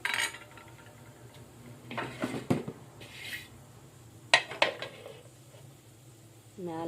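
A lid goes onto a pot of simmering brinjal curry in a home kitchen, giving a few sharp metallic clinks and knocks near the mic, with softer pot and utensil clatter between them.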